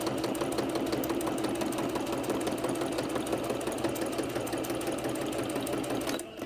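A sewing machine runs steadily while stitching around the inside edge of a piece for a December Daily advent project, a continuous close mechanical whir with rapid needle rhythm that stops abruptly near the end, no talking.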